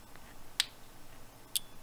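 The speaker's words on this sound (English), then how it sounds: "You'll hear the little click." The alarm relay inside a Tycon TP-SW8GAT network switch gives two small, sharp clicks about a second apart, close and crisp against a faint background hiss.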